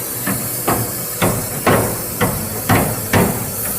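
A hammer strikes red-hot car body metal in a garage, six evenly spaced, ringing blows over a steady background hiss.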